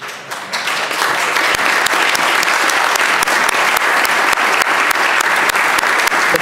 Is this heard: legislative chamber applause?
yes